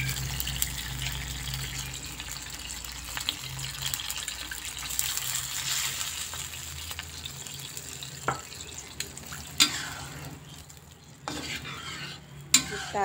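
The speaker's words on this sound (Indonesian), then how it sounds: "ini kalengnya kita kasih air ya airnya kita tuang ke dalam masakan" Water splashes into a hot pan with a steady sizzle and some stirring clatter, a few sharper clinks and scrapes near the end.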